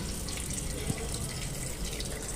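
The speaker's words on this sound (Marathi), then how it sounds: "आणि मग यामध्ये आपण पाणी भरायचं" Water runs steadily into a pressure cooker holding turmeric, a continuous splashing pour that stays even and fairly close throughout, with no voices.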